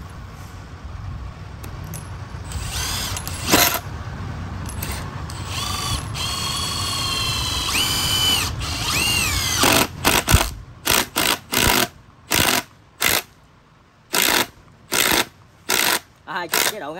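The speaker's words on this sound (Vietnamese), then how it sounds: "bắn vít lớn luôn." A Milwaukee-style 2953-20 cordless impact driver drives a large screw, whirring and hammering in sustained bursts, then firing a series of short, evenly spaced impact pulses, close and loud, with someone speaking in places.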